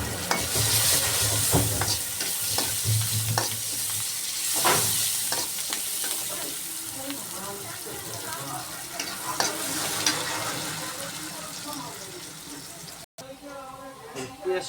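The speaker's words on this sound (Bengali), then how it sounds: "এখন দেব হলো পেঁয়াজ।" Onions fry in a hot pan with a steady crackling sizzle, while a utensil stirs and scrapes through them now and then. The cooking noise runs continuously for about fifteen seconds and stays close.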